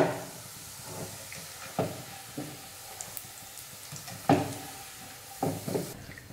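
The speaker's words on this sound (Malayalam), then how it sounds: "ഇപ്പോൾ കണ്ടില്ലേ നമ്മുടെ ചിക്കൻ കഷ്ണങ്ങൾ ഫ്രൈ ആയിട്ട് വന്നിട്ടുണ്ട് കേട്ടോ നന്നായിട്ട് തന്നെ" Chicken pieces for shawarma frying in hot oil, a constant close hiss broken by several louder crackling spits and bursts spread across the stretch, with no voices.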